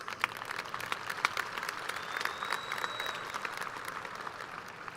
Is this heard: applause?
yes